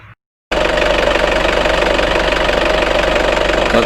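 Nissan Terrano diesel with an FS5R30A manual gearbox making an unusual noise: after a brief silence, a steady, loud mechanical drone with a knocking, vibrating texture runs unbroken to the end.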